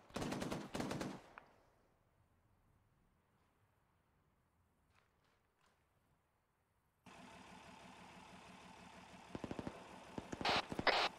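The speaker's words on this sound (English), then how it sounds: "No, we're taking heavy sniper fire." Gunfire in the Arma 3 military game: a loud burst of sharp shots opens, followed by a long near-silent stretch, then a steady engine-like rumble with more cracking shots toward the end.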